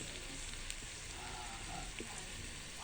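Curry leaves and red chillies for a tempering of mix dal khichadi hiss and sizzle steadily in hot oil, a faint, even crackle with a few small pops and no talking.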